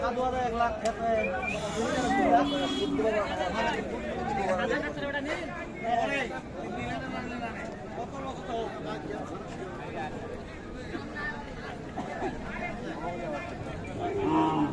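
Cows and heifer calves low now and then amid a busy crowd of people talking continuously in an open cattle market.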